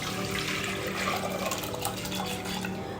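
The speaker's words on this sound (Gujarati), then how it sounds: "હવે આ દાળને આપણે પાણી સાથે જ એડ કરી દઈશું કુકરમાં" Soaked dal and water are poured into a pressure cooker for puran poli filling, making a steady, close splashing pour that runs throughout without any voices.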